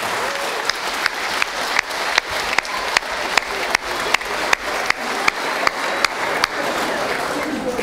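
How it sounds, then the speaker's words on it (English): Audience at a middle school spring band concert applauds the sixth grade band with sustained clapping. A sharp, close clap repeats at a steady beat above the wash of many hands. "So one more round of applause for our sixth grade band."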